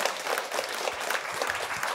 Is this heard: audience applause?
yes